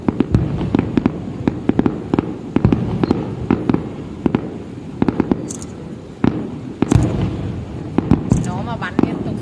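A fireworks display at Hồ Văn Quán bursting continuously, with rapid sharp pops and booms in a dense irregular rhythm, fairly loud and near, with people talking over it.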